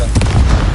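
A single Confringo spell blast from Hogwarts Legacy, a short loud booming burst with a heavy low thump, up close and alone.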